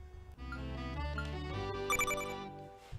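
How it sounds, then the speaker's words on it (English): Video game jetpack reaching full charge in The Super Penguboy, heard as a bright chiming, ringtone-like melodic jingle of rising tones that plays steadily for a few seconds over soft game music, with no talking. "I also like that the jetpack has a sound when it's all fully charged."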